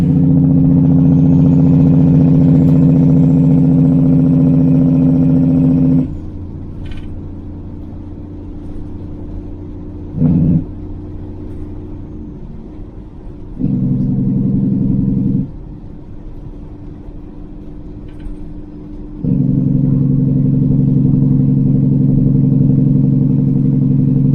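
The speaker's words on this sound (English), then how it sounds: "let you hear a little bit of the Jake brake stuff" A truck engine's Jake brake on a downhill grade barks in loud, deep rhythmic bursts that cut in and out several times, with quieter engine rumble between them and no talk.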